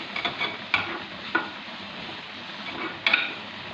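Onion tempering with salt and turmeric sizzles steadily in a hot pan, with a few sharp scrapes of a spoon stirring at intervals.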